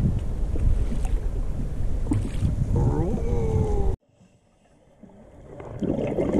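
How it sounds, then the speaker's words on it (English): Boat motors rumble offshore in open water near whales, a loud, steady wind-buffeted drone that cuts out abruptly partway, leaving a quiet gap before engine or wind noise swells back; faint voices may mingle in. "So those whales can hear those motors, so they're just staying away."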